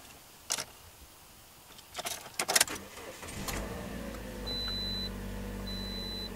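Car engine starting up after a few taps and a jangle of keys, settling into a low steady idle, with faint electronic beeps over the rumble.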